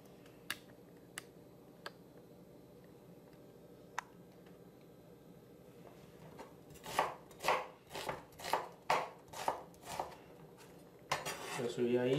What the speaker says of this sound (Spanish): Vamos a cortar la cebolla. Así, cubos grandes.